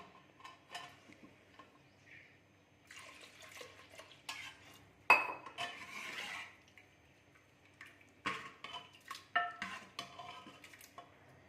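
Milk going into a pot of ridge gourd curry, with scattered clinks of a utensil against the pot, soft stirring and brief liquid sounds, quiet and close, no talk.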